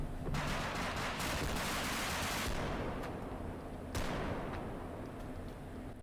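Gunfire in the video game BodyCam, a series of loud sharp shots fired in quick bursts, each followed by a long echoing reverberation that trails off, with no voices.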